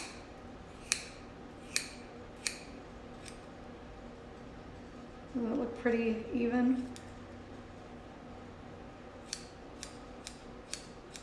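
Several crisp scissor snips cutting hair for a shag haircut, spaced across the clip, with a short stretch of someone speaking in the middle before more quick snipping.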